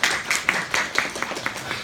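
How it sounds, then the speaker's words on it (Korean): A youth worship congregation claps briefly in encouragement, a short patter of scattered hand claps at moderate distance with a few sharper individual claps standing out. "우리 서로에게 한번 우리 격려의 박수 한번 드리겠습니다"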